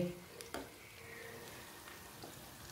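Raw potato kebabs fry in oil in a pan over a medium flame, giving a steady, faint sizzle with a couple of brief clicks near the start.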